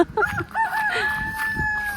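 A rooster crows loudly nearby, a long drawn-out call, with softer clucking from chickens in the background.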